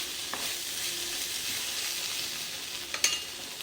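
Okra (bendakaya) frying in a pan, giving a steady, close hiss of sizzling oil with a couple of faint clinks near the end and no talking.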